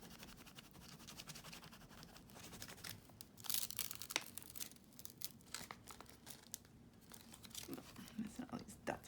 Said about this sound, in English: So just kind of peel it away little by little